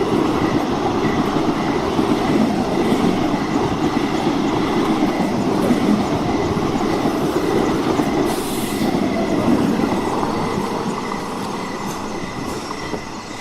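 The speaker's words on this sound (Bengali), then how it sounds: "ট্রেন এসে থামে" A train rumbles loudly and continuously with rattling wheels and a brief squeal, the noise easing slightly toward the end as it slows.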